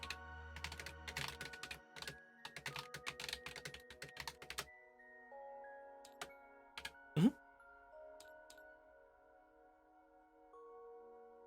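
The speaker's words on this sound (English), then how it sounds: "I'll wait for you to finish typing." Rapid clicking keystrokes on a computer keyboard, dense and close for several seconds before stopping, followed by a quieter stretch with a low hum, a single sharp knock and a few faint ticks.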